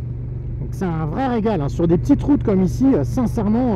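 A Honda NT1100 DCT parallel-twin motorcycle engine in sport mode hums as a steady low drone beneath continuous close-up talk from the rider, with no distinct rev rise or fall.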